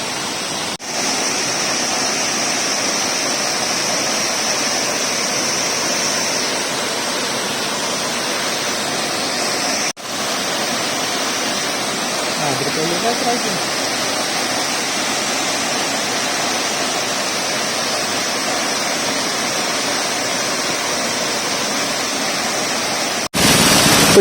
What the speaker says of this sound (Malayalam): അപ്പൊ ഇതാണ് നമ്മുടെ കടപ്പാറ വെള്ളച്ചാട്ടം.